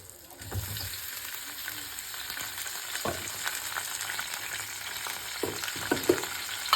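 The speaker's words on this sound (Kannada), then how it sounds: "ಆಮೇಲೆ ಸ್ವಲ್ಪ ಬೆಳ್ಳುಳ್ಳಿ ಹಾಕ್ತೆ ಫ್ರೈ ಮಾಡಿದೆ" Garlic and curry leaves fry in a pan with a steady broadband sizzle, broken by a few louder stirring scrapes near the end; no voices.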